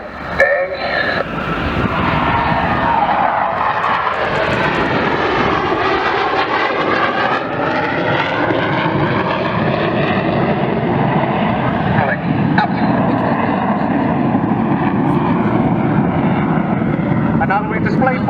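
RAF BAE Hawk T2 jet trainers fly at a seaside airshow, their loud, continuous jet roar sweeping and shifting in pitch as they pass, with an announcer talking over it.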